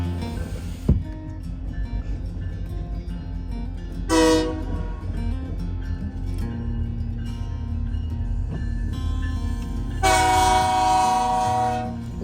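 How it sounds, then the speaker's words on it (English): A locomotive rumbles past with a low, steady engine drone and rail noise, its horn sounding in short blasts twice, the second one longer, heard fairly close with no voices. "My first time seeing this kind of locomotive"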